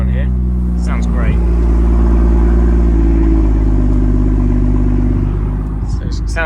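A 2017 BMW M2 idles after a cold start, a loud, steady, low engine drone close by with a faint rumble, while someone talks over it.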